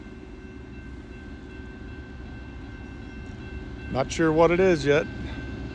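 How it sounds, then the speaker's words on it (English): Norfolk Southern train passing: a steady, distant low rumble runs throughout, and someone speaks briefly near the end over it. "we got another train just 10 minutes after the last one"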